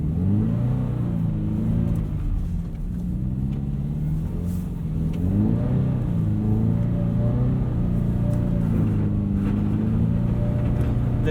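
A Subaru BRZ sports car on Continental WinterContact SI winter tires drives through deep snow, its engine droning steadily up close and rising and falling in pitch as it accelerates, with no talking.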